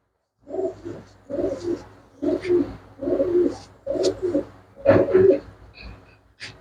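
Pigeons coo in a series of about six repeated, rhythmic calls, close and clear, with brief pauses between bursts and no talking.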